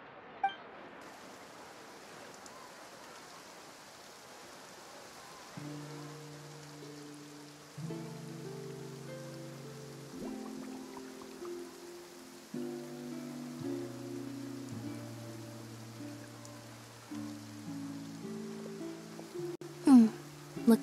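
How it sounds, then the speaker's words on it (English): Rain falling in the Genshin Impact game world of Fontaine, a steady soft patter of drops under gentle game music, with a louder bright sound near the end. "Looks like rain."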